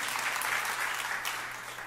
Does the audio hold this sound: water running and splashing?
no